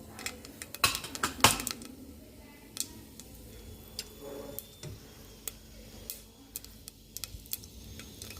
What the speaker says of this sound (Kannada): ಸಾಸಿವೆ ಚಿಟುಗುಡ್ತಾ ಇದೆ.